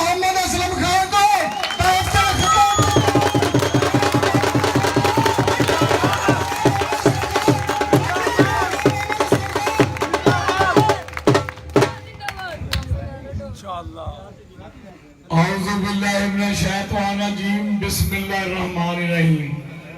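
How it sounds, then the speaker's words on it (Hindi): A large crowd at an outdoor political rally of the PTI party in Punjab, Pakistan, erupts into loud rhythmic clapping and chanting that swells and fades, followed by someone speaking over a loudspeaker. "अब मैं आप लोगों की भरपूर तालियों के अंदर बबशरे पंजाब राणा मोहम्मद असलम खान को"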